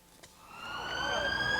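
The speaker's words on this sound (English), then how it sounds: "A siren signalling the arrival of another child with bullet wounds." An ambulance siren wails as it arrives at Stirling Royal Infirmary, a rising electronic tone that grows louder as the vehicle approaches over faint background noise.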